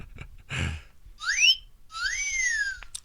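A person whistles a few short notes, mostly rising and falling glides with a brief pause between them, close and moderately loud, with no talking.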